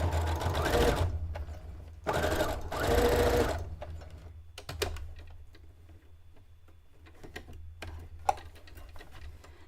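A sewing machine stitches a drawstring backpack made from Legend of Zelda fabric in two loud, close bursts of rapid stitching, followed by quieter clicks, taps and handling noises as the work is adjusted.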